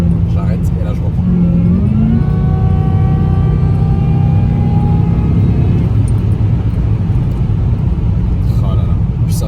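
A supercharged Jaguar S-Type R driving and then braking, its engine drone close and steady, rising in pitch before easing off as the car slows.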